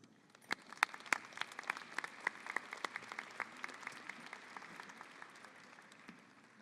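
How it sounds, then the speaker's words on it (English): Audience applause at a 2017 Mountain View High School graduation ceremony welcoming the interim principal, steady dense clapping with sharper individual claps standing out, moderately distant, lasting several seconds with no speech over it. "Let's welcome him with a round of applause."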